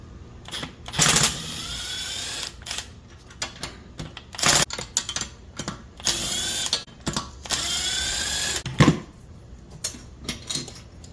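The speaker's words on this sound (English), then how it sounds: "We'll use number 12 socket. Get this off." Ratcheting clicks and clacks from a 12 mm socket wrench loosening a bolt on a Predator 212cc engine during a rebuild. Irregular bursts of metallic clicking come close to the mic, separated by short pauses.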